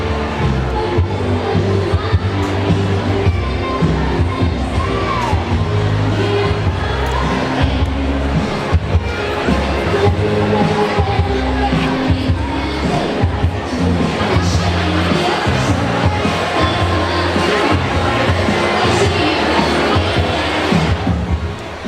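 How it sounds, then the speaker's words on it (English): A concert crowd gathered behind a stage curtain at a country music night in Nashville, a dense, continuous murmur of many voices with scattered shouts, loud and steady throughout with no pauses. "as you can hear, that's the crowd behind there"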